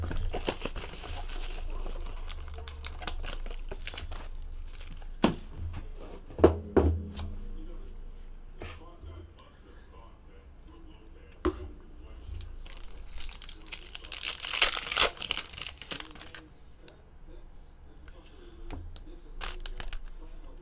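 A box of 2017 Panini Contenders Optic football cards is opened with close crinkling and tearing of wrapper and cardboard, scattered handling thumps, and faint talk in the background.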